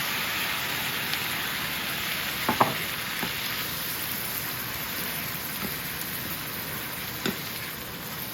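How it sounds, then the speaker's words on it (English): Chopped tomatoes go into a pan of cooked-through onions and fry with a faint, even sizzle, broken by a few soft knocks and clinks, quiet and steady throughout with no talk. "Alright, so I have some tomatoes cut up and my onions are cooked through, so I'm going to add these."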